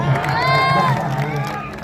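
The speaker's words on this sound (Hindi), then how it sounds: "दोनों के लिए जोरदार ताली फिर से बताइए।" Audience at a Bhojpuri stage show cheering and applauding loudly and steadily, a dense crowd roar with raised voices mixed in.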